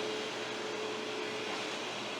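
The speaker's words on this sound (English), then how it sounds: "My talking is actually more decibels than this shop vac is." DeWalt shop vac running quietly, a soft, even whooshing hum with a faint steady whine, continuous and unchanging for a couple of seconds with no talking.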